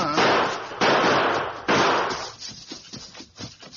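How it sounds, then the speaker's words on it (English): Sharp gunshot sound effects from a radio Western drama: three loud, evenly spaced bursts with long ringing decays, followed by a scatter of fainter, quicker pops as the firing continues. "Lone Ranger and Tonto maintained spaced gunfire as they hurried down the steep slope of the gully"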